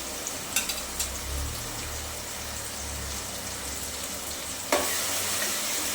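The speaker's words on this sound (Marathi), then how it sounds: "आल्याचा लसणीचा मिरचीचा कोथिंबीरचा कच्चेपणा जाईपर्यंत छान अशी परतून घ्यायची आहे एक दोन मिनटासाठी" Ginger, garlic, green chili and coriander sauté in a pan with a constant soft sizzle, light stirring clatter near the start and a sudden louder hiss toward the end, with no speech.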